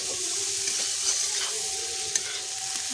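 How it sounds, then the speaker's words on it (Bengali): Spices frying and being stirred in a pan for a Bengali rohu fish and cauliflower curry, a steady close sizzle with scraping stir strokes and occasional sharp clicks, no talk. "ভালো করে কষিয়ে নিয়েছি"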